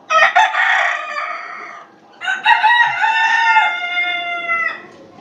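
Silver and golden Sebright chickens give two long, loud, close crows with harmonic, strained tones. A brief pause separates them, and a quiet background murmur runs underneath.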